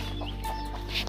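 A hen clucks softly among her small chicks on a poultry farm, with faint high cheeps over a steady low background hum.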